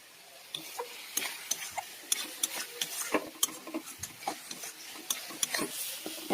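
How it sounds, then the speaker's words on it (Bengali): Spices for chickpea ghugni sauté in a pan, heard as a run of close, sharp scraping and stirring knocks over a faint sizzle, with no one talking. "এবার মশলাগুলো ভালো করে কষাবো"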